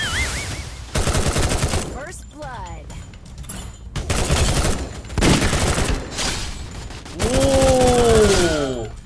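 Automatic gunfire bursts in the battle royale game Free Fire, rapid rattling volleys recurring across the clip alongside game effects and whooshing sweeps, with voices chattering over the action.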